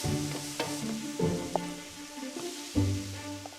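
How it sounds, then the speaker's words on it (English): Chopped onion stir-frying in olive oil in a pan, giving a close, steady sizzle with a few brief stirring knocks, set under sustained tonal background music. "splash in some olive oil, and we're ready to stir-fry the veg"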